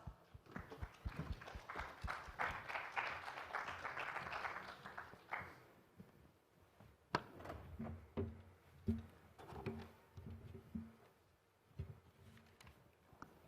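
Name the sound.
audience applause at a conference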